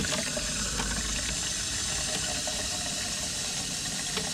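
Cold water running steadily from the bathroom sink tap in an RV, a continuous hissing flow that stays close and even throughout with no talking.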